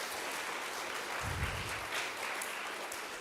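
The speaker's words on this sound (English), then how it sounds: "One more round of applause for Detective Brian." Applause from a middle school audience after an internet safety talk, a steady wash of clapping heard from a distance at low volume.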